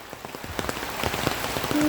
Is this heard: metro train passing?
no